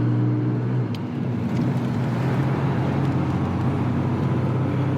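A classic Jaguar MK2 engine hums steadily at low pitch while driving past on dry roads, smooth and continuous, with faint road noise and no voices.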